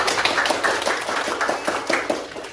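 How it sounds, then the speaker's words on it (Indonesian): A small group applauds at the close of a university teaching session in Indonesia, a short burst of brisk, uneven clapping close by with no talk over it. "Tepuk tangan"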